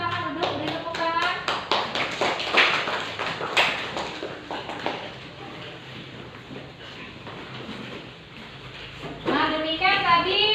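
Junior high students in a classroom in Lampung clap after a group presentation, a burst of quick, close handclaps that fades into scattered taps and overlapping children's chatter.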